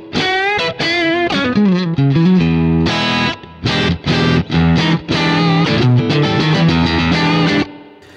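A Fender Stratocaster at full volume through a Fender Super amp preset with spring reverb, played alone as loud, gritty blues-rock phrases with sustained bends and chords ringing continuously, then ending.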